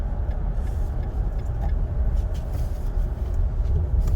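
A 2022 Nissan Frontier S pickup truck engine roars steadily and loudly up close while accelerating, a dense low rumble that holds and builds slightly without any break.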